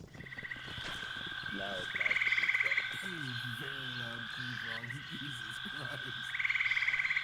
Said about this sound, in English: We're being assaulted by tree frogs.